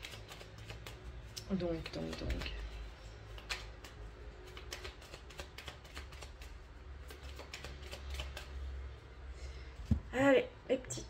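Tarot cards are shuffled in quick riffling bursts and soft flicks, close and fairly quiet, while someone talks over much of it.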